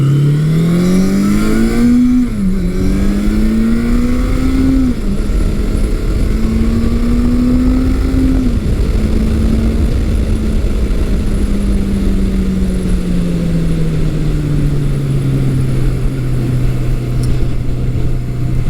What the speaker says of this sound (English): It's got a nice kind of a jet engine sound to the exhaust.